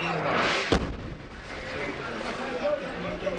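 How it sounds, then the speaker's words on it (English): A US airstrike explosion in a war-torn old city lands as one sharp, deep boom followed by a rumbling tail, heard at a distance through street ambience, with a voice speaking in the background. "That was the US airstrike."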